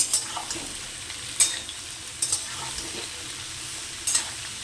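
Grated onion, chili and ginger tipped into hot oil in a frying pan for a pasta dish, a soft steady sizzle punctuated by a few sharp clinks of a spoon stirring against the pan.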